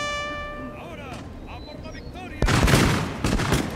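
Musket volleys in the Total War: Napoleon strategy game, a sudden loud burst of crackling gunfire that starts partway through after quieter battlefield ambience with horn-like tones, and a second burst follows.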